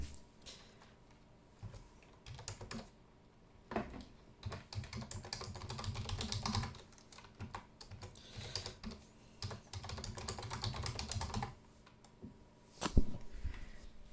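A password typed on a computer keyboard during a Manjaro Linux installation: steady bursts of close, quick key clicks with brief pauses between runs and a sharper tap near the end.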